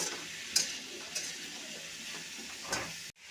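Sliced snake gourd frying in oil in a pan gives a continuous close sizzle, with a few spatula knocks and scrapes against the metal before the sound cuts off abruptly at the end.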